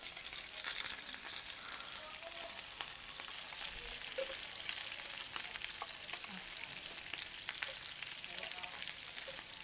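Salt-and-pepper seasoned pork samgyupsal sizzles in a pan at home, a soft, continuous crackling hiss with tiny pops throughout and no voices.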